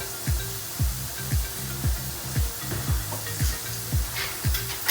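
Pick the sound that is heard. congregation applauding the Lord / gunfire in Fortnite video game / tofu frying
tofu frying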